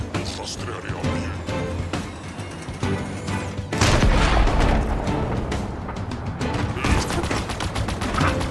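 Dense gunfire rattles through a Halo video game battle, with continuous bursts and loud impacts swelling midway and again near the end, while a voice speaks underneath.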